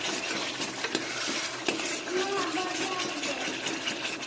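Potatoes with turmeric and asafoetida are stirred in a pan for a home-style chickpea curry. A steady, moderate sizzle runs under repeated scraping and clinking of a spoon against the pan, with faint voices nearby.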